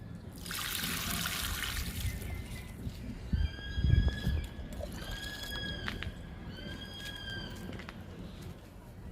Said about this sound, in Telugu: ఈ రెండు దానిమ్మ మొక్కలకు కూడా వాటర్ ఇచ్చేద్దాము